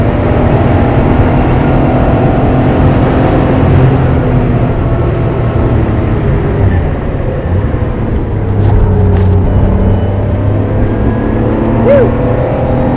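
Engine of a Porsche 911 Carrera droning loudly from inside the cabin while driving, a steady low rumble with shifting revs and tire-road roar, continuous and close.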